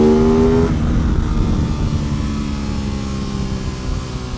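Aprilia RS660 motorcycle on a race track at full throttle, its engine note climbing then holding in a loud, steady roar with strong wind rush throughout, no talking.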